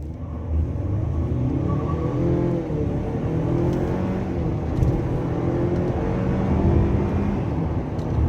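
A 2021 GMC Acadia with the 2.0-liter turbo engine accelerating at full throttle, a steady loud engine drone that rises in pitch as it pulls, heard from inside the cabin with no talk.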